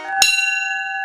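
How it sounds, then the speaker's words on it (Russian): A single church bell struck once, a loud clang that rings on with a long, steady humming decay, alone with no voices. "6-7 ударов каждый колокол."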